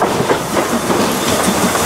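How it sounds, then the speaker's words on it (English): A narrow-gauge train on the Gulbene–Alūksne railway in Latvia rolls steadily along the tracks, producing a loud, close, continuous rumble with a rhythmic clickety-clack of wheels and faint hiss. "makes a majestic departure along the narrow-gauge tracks"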